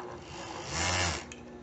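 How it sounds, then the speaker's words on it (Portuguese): An overlock sewing machine stitches swimsuit lining on a bikini top in a quiet workroom, giving a soft, steady mechanical whir that swells for a moment in the middle and then settles back to a faint hum. "Só vou passar um overlockinho aqui para facilitar."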